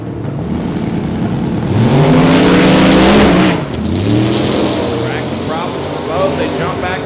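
Small-tire drag racing cars scream off the line and accelerate hard down the track at a Texas 275 competition, a loud roaring rise that sweeps up in pitch, drops, then climbs again as a second engine fades into the distance.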